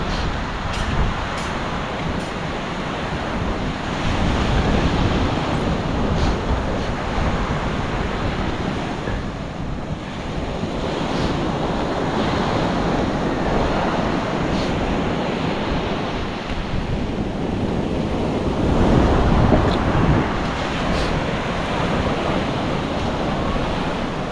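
Ocean waves wash in and recede in slow surges over a constant roar of surf, with gusts of wind buffeting the microphone.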